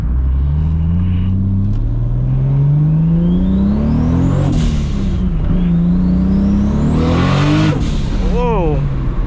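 A MKIV Toyota Supra with a new turbo setup revs hard at night, its engine note rising through gears in loud climbing sweeps, with turbo whoosh and a voice talking over it.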